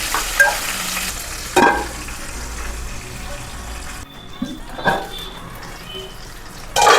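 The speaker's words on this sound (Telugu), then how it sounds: "ఈ విధంగా వేగుతున్నాయి వేగాలి మెత్తబడేంత వరకు" Brinjal pieces fry in oil in a pan, a continuous close sizzle with a few louder stirring scrapes spread across it, no voices.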